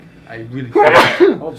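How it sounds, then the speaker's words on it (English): A single sharp sneeze bursts out loudly right after a person speaks, with more talking following it. "bless you"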